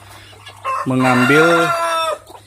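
Ayam ketawa hen with day-old chicks gives a loud, drawn-out laughing cluck call close by, several rising and falling notes in one burst, with a faint word spoken over it.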